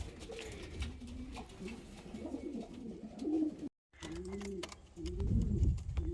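Soft, low pigeon coos repeat from a loft of breeding pigeons, faint and somewhat close, with brief rustling, a short dropout and no talk.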